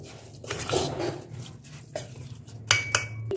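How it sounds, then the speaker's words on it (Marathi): Metal clinks and scraping as a metal pot is scooped through jowar bran, with a dry rustle of loose bran and a couple of sharper clanks near the end. "पातेल्यानं हा कोंडा मोजून घेते"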